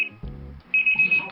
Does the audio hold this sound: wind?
no